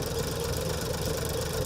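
An Allis-Chalmers WD-45 diesel tractor engine runs at a steady idle, producing a continuous rough, knocking rumble close by with no talking.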